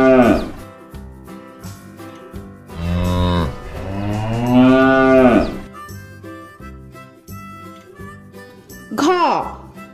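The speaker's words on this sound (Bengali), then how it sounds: "গয়ে গরু বাছুর দাঁড়িয়ে আছে।" A cow and calf moo loudly, with long drawn-out calls in the middle and a shorter one near the end, over a rhythmic backing tune.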